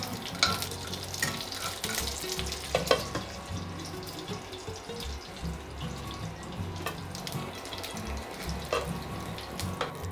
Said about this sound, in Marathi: आता आमची फोडणी खमंग बसलेली आसा